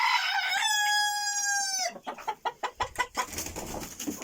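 In a henhouse, a rooster crows one long, loud call, then hens cluck in a quick, uneven series close by.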